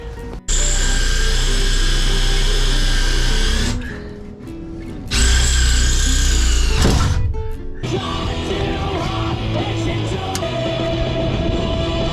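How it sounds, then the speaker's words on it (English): A power drill drilling through metal whines loudly in two long bursts separated by a short pause, followed by a lower grinding, buzzing tool sound continuing to the end. "I'm just going to drill through that hole I marked there"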